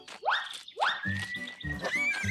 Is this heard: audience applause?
no